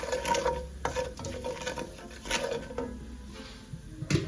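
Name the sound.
sautéing roasted cumin, coriander, carom seeds and salt in pan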